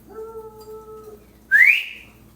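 A person whistles to call farm animals in for food, sounding a held, steady tone followed by a sharp, rising whistle. It is close, fairly loud and clear, with no talk.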